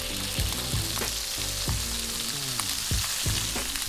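Beef shank sears in a hot pan with a dense, constant sizzle, punctuated by repeated metallic knocks and scrapes of tongs or a utensil at close range; there is no talking.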